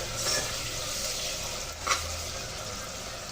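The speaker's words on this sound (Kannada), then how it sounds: "ಆನಿಯನ್ ಕೆಂಪಾಗೋ ತನಕ ಇದನ್ನ ಫ್ರೈ ಮಾಡಿ." For vegetable pulao, onions fry in a pan with a steady hiss and sizzle, close and moderately loud, broken by one brief scrape of stirring midway; nobody speaks.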